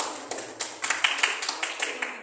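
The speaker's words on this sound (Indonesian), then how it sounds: "Boleh kasih tepuk tangan." A short burst of clapping from a small group of teachers and students, a dozen or so quick, uneven claps close by with faint chatter behind.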